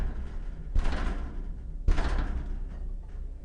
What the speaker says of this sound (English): It sounded like someone knocking on the airlock.